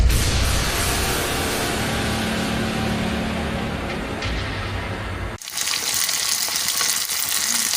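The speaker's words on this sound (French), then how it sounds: "Je fais revenir les oignons." Onions frying for a pepper sauce, a steady dense sizzle in the pan filling the first five seconds, then cutting to a brighter, thinner hiss of cooking with a few clinks.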